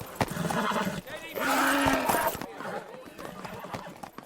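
A horse at a livery lets out a loud, drawn-out whinny between hoof clops, with people talking around it.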